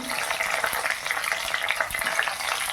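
About fifteen whole garlic cloves and two green chillies fry in hot oil, producing a dense, continuous, fairly loud crackling sizzle with no voices.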